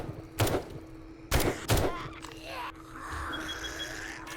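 Automatic turret in the survival game 7 Days to Die lets off three sharp, loud gunfire bursts, one alone and then a quick pair, before a quieter stretch of low game ambience.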